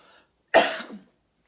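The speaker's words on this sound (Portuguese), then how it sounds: "Só um momentinho porque eu tenho que tossir" A single sharp cough, close and abrupt, after a faint bit of background voice, then silence.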